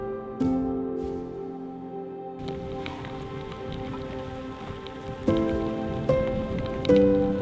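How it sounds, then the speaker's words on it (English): Heavy rain drums steadily on a surface on open moorland during a hike in harsh weather, a dense continuous downpour that intensifies in bursts. "the rain is just relentlessly heavy"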